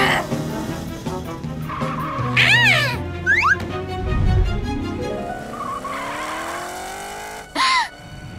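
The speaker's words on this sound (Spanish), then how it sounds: "¡Transfórmate en un superauto de carreras para atrapar a Orfol!" A cartoon race car speeds up and skids in a children's animated adventure, with rising and falling engine whines, squealing tire sweeps and a sharp skid near the end, loud against a musical background with no talk.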